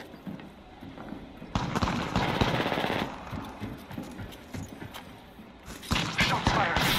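Rapid video game gunfire crackles loud and continuous with dense bursts, easing briefly midway before another heavy volley near the end.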